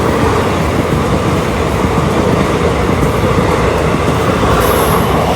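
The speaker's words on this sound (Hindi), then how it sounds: "इसे सिग्नल भी मिला हुआ है ग्रीन। लखनऊ वाराणसी है इंटरसिटी।" A Lucknow–Varanasi Intercity train passes close by on the Indian railway, a loud continuous roar of wagons and rolling wheels with faint rhythmic clatter and a brief high squeal near the end.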